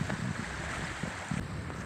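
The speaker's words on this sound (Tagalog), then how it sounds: "Kasi malakas ang hangin." Strong wind at the shore, a loud rough buffeting roar against the microphone with low gusty rumbles, no voices over it.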